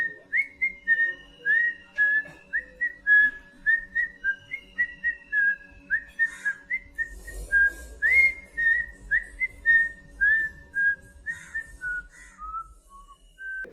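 A person whistles the Kill Bill theme tune, a clear solo melody of short repeated phrases rising and falling, close and alone with a brief patch of background rumble midway.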